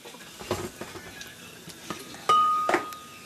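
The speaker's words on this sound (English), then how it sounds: "Okay, I'm going to throw them into the blender." Quartered tomatoes drop into a blender jar in a home kitchen while Mexican homestyle rice is being made, giving several soft thuds and light clinks against the jar, close and fairly quiet with no talk.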